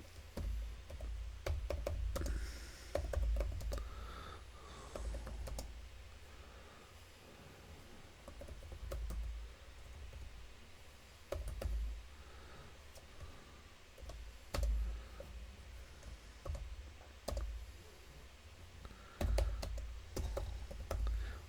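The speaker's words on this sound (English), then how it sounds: "Learn to type, stupid." Typing on a computer keyboard, steady close clicking and clacking keystrokes in uneven bursts with brief pauses, moderately loud and without talk.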